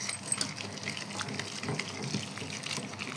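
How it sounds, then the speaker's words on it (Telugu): Coriander leaves being washed in water, with a continuous soft splashing and trickling of running water, faint and steady, close by with no talking. "కొత్తిమీర కడుగు బాగా"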